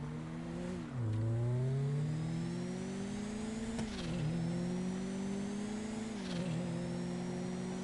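A car engine in the GTA video game revs and accelerates steadily, with rising then dropping pitch sweeps as it shifts through gears, close and loud with no talking.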